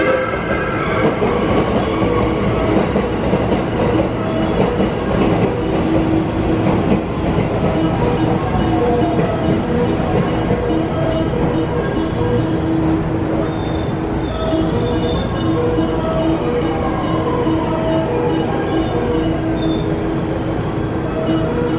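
A train rumbles steadily alongside a platform at Kyoto Station, with continuous rail noise and faint squealing as it moves in, loud and close throughout.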